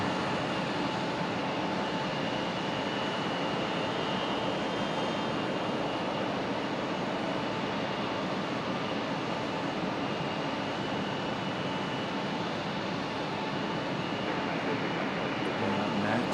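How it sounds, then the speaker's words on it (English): A Boeing 737 MAX 9 airliner departs Raleigh-Durham International Airport at night, giving a steady, loud broadband roar that holds evenly for the whole stretch with no voices. "Aircraft. That's a MAX 9."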